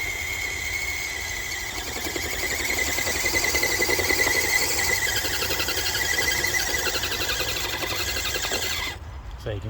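FTX Outback 3 Paso RC crawler straining for grip on a dirt bank, a steady high electric motor whine with squealing tones and gravelly scrabbling that runs for about nine seconds before cutting off abruptly.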